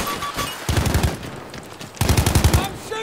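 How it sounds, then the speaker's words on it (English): Two bursts of rapid automatic gunfire in Battlefield 5 Conquest, each about a second of tight repeated shots separated by a quieter gap, loud and close with no talk. "I'm shooting here."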